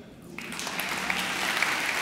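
Science slam audience breaking into moderate, half-hearted applause to score a 4.5, the clapping swelling from a quiet start and holding steady for under two seconds.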